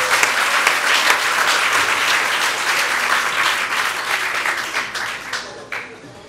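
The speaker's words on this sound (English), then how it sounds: "we won't mind if you guys would clap again for the three of us." Audience at a 2016 Philippine presidential debate breaks into sustained applause, dense steady clapping that thins and fades toward the end, with speech faintly audible beneath it.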